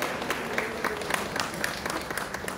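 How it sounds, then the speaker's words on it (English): Audience applause at a national peace convention, a steady patter of clapping from a crowd that holds at an even level for the full stretch, with no voices over it. "Let's give them a round of applause."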